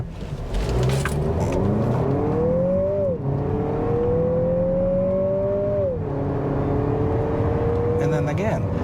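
A 2024 Lexus NX350 F Sport SUV accelerating up to speed, its engine note rising steadily through gears with clear upshift drops, loud from inside the cabin, with brief talk near the end.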